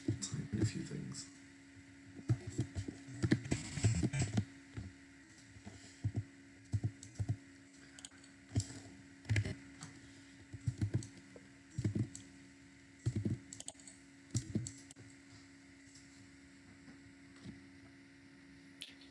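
Keys on a computer keyboard clack in irregular bursts while someone types code, a steady low hum running underneath, with short quiet pauses between clusters of keystrokes.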